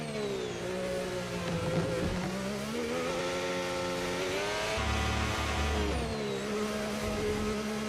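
A Formula 1 car engine in the F1 25 racing game revs high and steady, its pitch climbing and dropping through upshifts, with a deeper rumble partway through, continuous and loud with no talking.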